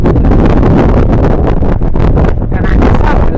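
Wind gusts buffet and roar across open water aboard a boat, a loud, continuous rushing blast that dominates throughout, with no clear talk over it.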